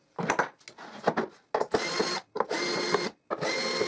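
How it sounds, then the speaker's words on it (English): Screw being driven out of a wooden crosscut jig for 45-degree cuts, close loud whirring bursts from a powered driver in short separate runs, the first ones choppy and the later ones longer and steadier, with brief silences between. "first I will unscrew the piece that blocks the clamp fixed jaw against the back of the board"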